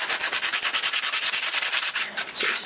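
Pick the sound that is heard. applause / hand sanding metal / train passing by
hand sanding metal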